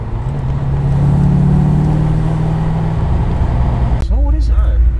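A 1982 Ford Fairmont XE ESP with a 5.8-litre V8 accelerates hard, a loud low engine roar heard from inside the car, then a sudden drop to a lower rumble near the end.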